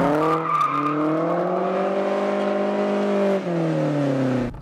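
A car engine held at high, strained revs as the car drifts sideways, a loud continuous droning note that sags briefly near the end, with no talking.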